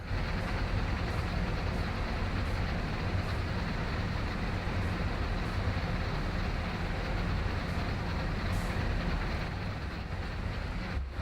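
A freight train in Train Sim World 2 on Horseshoe Curve gives a steady, loud rolling rumble and hiss that holds without a break, with no voices.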